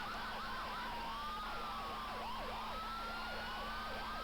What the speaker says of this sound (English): Quite a line of sirens and lights.